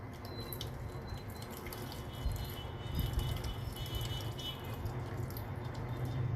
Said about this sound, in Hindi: इसमें से पानी गिरना शुरू हो गया है